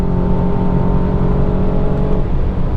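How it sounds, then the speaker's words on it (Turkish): A 245 hp BMW 428i with all-wheel drive accelerates hard at full throttle after a quick downshift, its engine droning loud and steady from inside the cabin. "Dip gaz yaptım. Hemen vitesi küçülttü."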